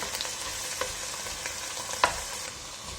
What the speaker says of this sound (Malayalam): കുറച്ച് വെള്ളം ചേർത്തിട്ട് ഇളക്കി കൊടുക്കുക